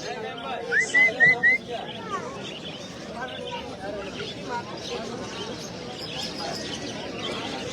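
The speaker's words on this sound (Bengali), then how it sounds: "এই যে একটা ময়না পাখি" A myna bird calls in a few quick, bright whistled notes near the start, set against the crowd babble and chirps of other birds at a busy bird market, with people talking throughout.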